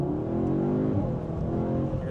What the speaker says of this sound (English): Hear the turbo spooling up.